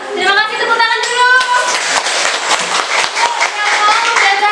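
Elementary school children clap together in a classroom during a science lesson, a dense patter of hand claps following a brief spoken voice and continuing steadily for several seconds, close and lively.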